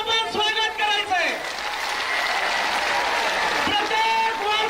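A large crowd claps and cheers to welcome Maratha activist Manoj Jarange Patil at a rally. The applause is dense and sustained throughout, with a voice faintly audible over it near the start.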